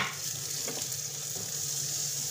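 Onion frying in a pan for fish escabeche, giving a steady, fairly quiet sizzling hiss with faint crackles throughout, no voices.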